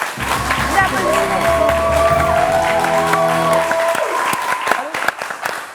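Children applaud during a World Children's Day broadcast, a crowd of clapping hands under a sustained tonal voice or music at first, then thinning to scattered sharp claps toward the end, with talk mixed in.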